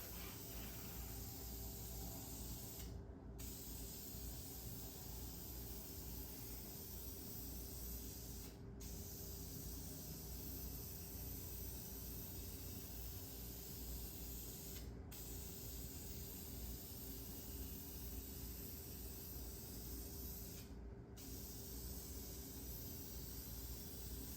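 A metal Jeep TJ grille gets another coat of spray paint: a loud, steady close-up hiss that stops briefly a few times as the nozzle is released, with no talking.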